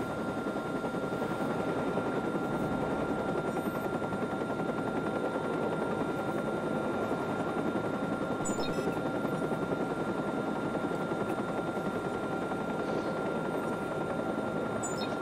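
Steady rapid thudding of helicopter rotors in the video game Watch Dogs holds throughout, a constant loud drone with a few faint distant pops of gunfire.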